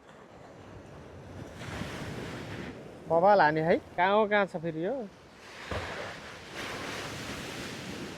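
Ocean waves break on a shore in Japan as a continuous broadband wash of surf with wind noise on the microphone, while someone speaks briefly in the middle.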